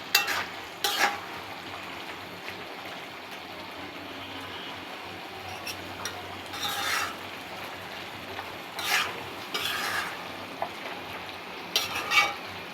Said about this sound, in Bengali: এখন ভালোভাবে ভাজা ভাজা করে নামিয়ে নেব